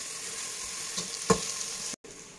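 Ingredients for chicken pulao fry in a pan with a soft, steady sizzle, faint and continuous, broken by one brief scrape near the middle and a sudden cut to silence near the end.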